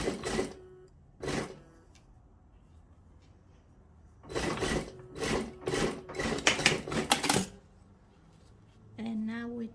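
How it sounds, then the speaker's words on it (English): An overlock sewing machine stitches the seam of a tulle bridesmaid evening dress in loud mechanical bursts, with several short runs followed by a longer stretch of rapid stitching. A voice speaks at the end. "And now we just overlock this."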